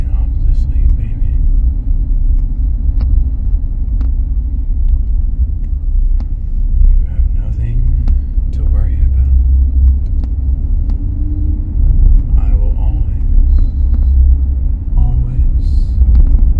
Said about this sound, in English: listen to the sounds of the car